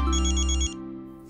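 A phone ringtone for an incoming call plays as a bright repeating electronic melody over a low hum, then cuts off abruptly halfway, leaving quiet room tone.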